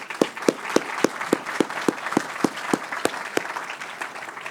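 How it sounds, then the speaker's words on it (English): A small audience claps for the speakers at a research showcase, the claps landing in a sparse, even rhythm of about a dozen distinct smacks that sound like only a few hands. "let's give Arlene and Dan one more round of applause"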